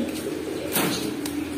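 A black Babra pigeon, an old-breed single male, coos softly in a short close burst with low throaty tones over steady background hum.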